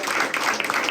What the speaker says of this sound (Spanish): Yo quería agradecer un aplauso especial para Benicio, Agustina, Cami,